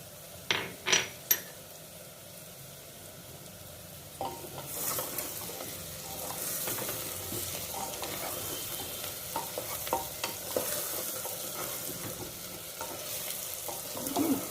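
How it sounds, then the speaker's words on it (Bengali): Champaran-style mutton with garlic and a spoon of jaggery fries in a pan: a few sharp utensil clinks open, then a steady close sizzle with repeated stirring scrapes and clatter, no voices. "খুব ভালো গন্ধ হয়ে গেছে, ভাজা ভাজা হয়ে গেছে অনেক।"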